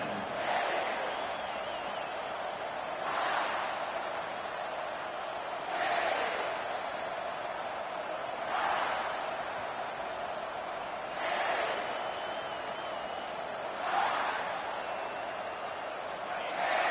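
Football stadium crowd roaring steadily throughout, with periodic swells of louder cheering every few seconds over a constant broad wash of noise.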